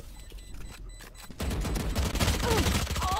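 Gunfire in VALORANT, a flurry of rapid shots erupting loudly after a brief quieter stretch, continuing as a dense burst to the end.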